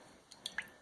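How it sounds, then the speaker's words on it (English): Water sprinkled by hand from a mason jar onto fabric during shirring, giving two or three small, soft drips and splashes spaced apart, quiet and close, with no talking. "I'm literally gonna just sprinkle water on this from my mason jar over here."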